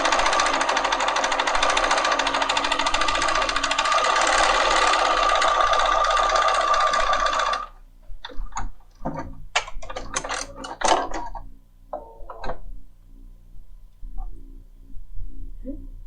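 A Bernina 5 Series sewing machine stitches a mirrored blanket stitch with a loud, rapid, steady mechanical whirring for several seconds, then falls silent apart from scattered clicks and handling noises.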